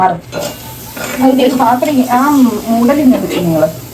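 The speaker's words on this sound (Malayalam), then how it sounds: "ഞാൻ പച്ചവേപ്പില ഇട്ടിട്ടുണ്ട്" Fresh curry leaves hit a hot pan for mango pulissery, a close crackling sizzle with faint utensil clatter, while a voice talks loudly over it.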